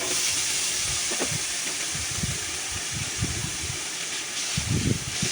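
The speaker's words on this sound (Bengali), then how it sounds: "শুধু তেলের মধ্যে আমি আলুগুলো একটু ভেজে নিতেছি" Cut potatoes fry in plain hot oil in a pan, a constant close hiss with soft irregular crackles and pops rising now and then.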